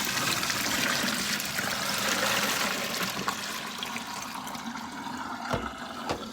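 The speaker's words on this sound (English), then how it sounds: "I'm now going to dump this water out and get some fresh water." Dirty cleaning water is dumped out during a move-out house clean, a loud rushing pour that tapers into trickles and a few splashes, heard alone.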